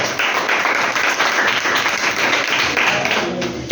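A school class breaks into steady applause, many hands clapping close together in a dense, continuous patter that stays loud throughout.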